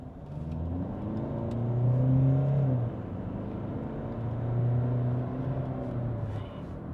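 Kia Sportage turbo-diesel SUV accelerating, heard from inside the cabin as the engine note rises in two surges, dips between them and then settles back to a steady hum.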